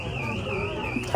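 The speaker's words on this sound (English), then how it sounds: "The alarm is going off, you guys," A store alarm sounds steadily with a wavering, siren-like tone inside a Goodwill thrift store in Orange County, California, continuous and moderately loud over shop background noise.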